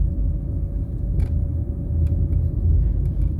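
A car drives along Knutsford Boulevard in New Kingston, giving a steady, loud low engine and road rumble throughout with no voices, and a few faint brief ticks above it.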